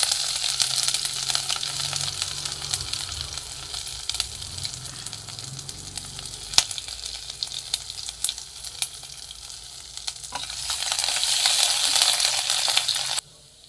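Ginger paste fries in spiced oil in a pan with a continuous close sizzle and crackle. Occasional sharp clicks of a spoon against the pan come through, and the sizzle swells louder toward the end.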